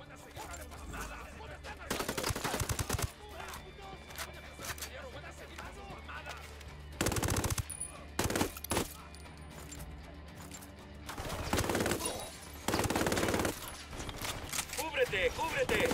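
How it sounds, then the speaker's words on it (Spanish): Bursts of video game gunfire during a military battle, loud volleys in several separate clusters with quieter ambient combat noise between them. "Objetivos confirmados, listos para atacar. Disparen a esos hijos de puta."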